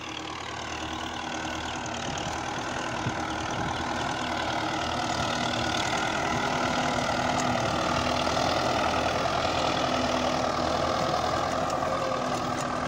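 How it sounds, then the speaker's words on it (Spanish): A tractor engine runs steadily in a farm field being prepared for planting, a continuous low idling rumble with a knocking diesel texture, fairly close and alone throughout. "Ahí va el tractor."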